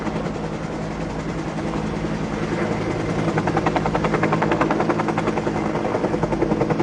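A helicopter flying overhead in Waikiki, Oahu, a loud, steady rotor drone whose rhythmic blade chop grows stronger and closer in the second half.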